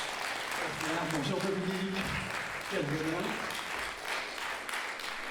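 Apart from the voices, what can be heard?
audience applause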